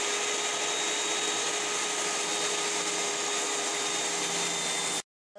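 A loud, steady high-pitched whine of a power saw cutting a slot in wood runs continuously, then cuts off abruptly near the end.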